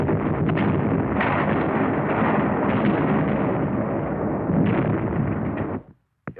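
Wartime artillery fire during the Battle of San Pietro, a dense, continuous roar of loud overlapping blasts and rumbling booms that runs for about six seconds before cutting off abruptly.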